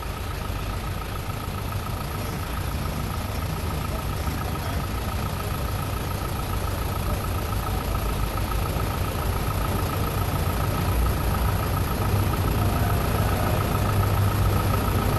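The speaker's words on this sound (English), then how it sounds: "our next tractor coming up here will be Dennis Goodwin from Farnhamville, Iowa, and he'll be driving the Magnum Force." A pulling tractor, the Magnum Force, rumbles at idle at a 1999 farm machinery show tractor pull, a loud, steady, droning engine note with a constant hum throughout and no pauses.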